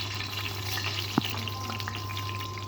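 Lentils for a tempering frying in oil for a drumstick pickle, making a steady quiet sizzle with a single sharp clink of a utensil midway, no speech.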